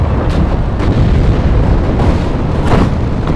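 Artillery fire in the WWII strategy game Steel Division: Normandy 1944, a dense continuous rumble of distant booms and bursts with a few sharper blasts standing out, loud throughout.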